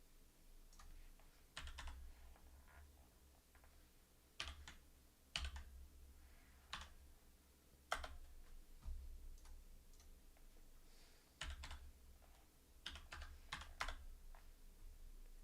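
Typing on a computer keyboard: sparse, quiet clusters of key clicks in irregular bursts, some taps louder than others, over low background hum with no voices.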